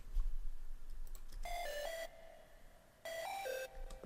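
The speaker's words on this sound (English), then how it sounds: "I've added some layers into my synths, such as a lead layer" Glitchy synth lead layer for an electronic track drop plays two bright, stuttering tonal bursts with stepping pitches, separated by a pause, over a low rumble.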